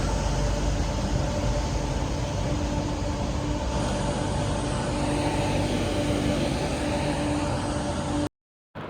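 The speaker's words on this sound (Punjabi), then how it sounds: "ਟ੍ਰੇਨ ਆਪਣੀ ਮੰਜ਼ਿਲ ਵੱਲ ਚੱਲ ਪਈ ਆ" A train starting to move, its steady, loud rumble of wheels and engine rolling on without a break, then cutting off abruptly near the end.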